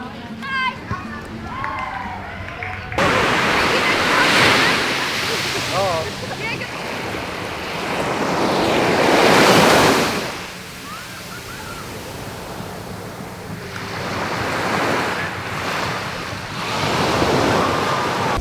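Surf washing onto Las Cabañas Beach in El Nido, Palawan, a steady broad wash with swells rising and falling, heard alongside wind buffeting the microphone and people talking and children's voices nearby.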